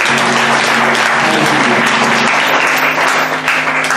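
Sustained, loud applause from a crowd acclaiming the Lord at a Bible institute graduation and certification ceremony, dense steady clapping throughout with a low hum beneath.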